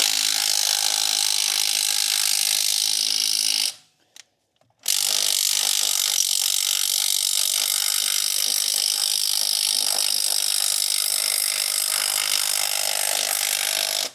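An impact wrench works a rusted spark plug loose on a 1986 Ford F250, with a loud continuous grinding whir for about four seconds, a brief pause, then roughly nine more seconds of steady whirring.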